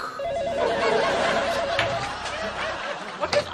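An electronic telephone rings in a repeating warbling pattern through the first half, set in a comedy sketch among light laughter and murmuring, with a few sharp knocks near the end.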